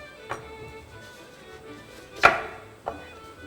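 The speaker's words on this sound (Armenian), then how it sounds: "Կանաչ վարունգ։ Այո։ Կտրատում ենք շատ բարակ շերտերով, կարող ենք այսպես երկարությամբ" Knife slicing a green cucumber lengthwise into very thin strips on a board for a lavash roll, giving three crisp cuts, the middle one loudest, with quiet gaps between and no talk.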